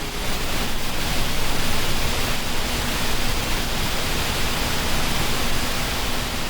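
A waterfall pours as a steady, loud, unbroken roar of falling water, even and continuous throughout with no voices.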